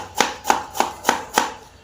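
Five evenly spaced knife chops through bamboo shoots on a cutting board, crisp and close, in a steady rhythm with no other sound.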